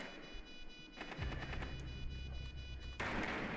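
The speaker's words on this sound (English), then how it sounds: "Oh yeah, that's a 12 gauge shotgun, bro." Gunfire in Rainbow Six Siege from a 12 gauge shotgun, a rapid series of faint, distant-sounding shots layered over low rumbling game ambience and a tonal hum, with a heavier boom near the end.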